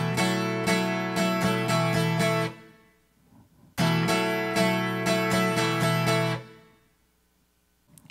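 Acoustic guitar strummed in a quick down-up strumming pattern, two bursts each ending in a ringing chord that fades, with a pause between.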